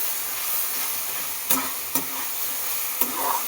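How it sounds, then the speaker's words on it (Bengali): Pumpkin curry with chili paste is stirred in a hot pan: steady sizzling hiss with a few crisp scrapes of a spatula against the pan, close and alone. "এবার আবার নেড়ে নেব,"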